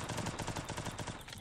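Rapid gunfire in a shooting video game, a fast run of repeated shots at fairly low level, evenly spaced bursts with no talk over them.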